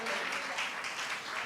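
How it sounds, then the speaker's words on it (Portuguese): Congregation applauding during a church service, a steady wash of many hands clapping together, moderately loud and continuous throughout. "você pode aplaudir ao Senhor"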